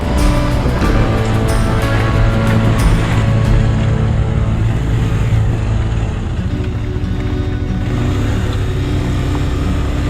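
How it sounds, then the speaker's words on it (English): A steady, loud motorcycle engine drone with rumbling and rattling as it jolts over potholes and bumps on a rough road in Indonesia, continuous throughout. "Our motorcycle is not made for these types of potholes and bumps"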